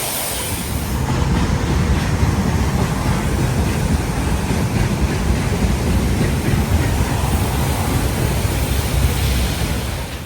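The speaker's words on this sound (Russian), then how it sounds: "железная дорога" A train rolls past on a railway right beside the road in southern Russia near Adygea, a loud continuous rumble and wheel roar that holds steady throughout, close by and with no talk.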